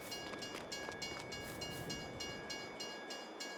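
A rented train rolls along the track in Farming Simulator 22, a steady broadband rumble with faint rhythmic clicks and a thin high whine running continuously at moderate level, no voices.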